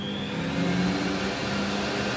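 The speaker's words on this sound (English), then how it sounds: "Switch on the juicer." A DNA commercial juicer runs after being switched on, giving a steady whirring motor hum with a faint high whine, close and continuous.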